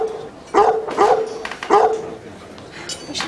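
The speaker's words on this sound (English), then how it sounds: "We shouldn't let the waiters tease the dog like that." A dog barks close by in three or four sharp, evenly spaced yips and woofs, with a faint bit of background noise between them.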